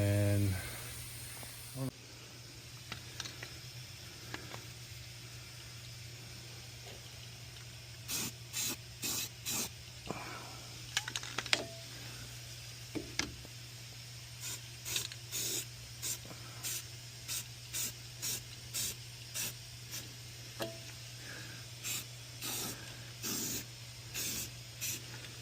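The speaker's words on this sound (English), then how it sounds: "So I'm about to just paint all this black with the rust inhibitor." Short repeated bursts of spray paint as black rust inhibitor is applied to a car's bare driver-side body, with about sixteen hissing blasts over a steady low hum; a voice is heard briefly.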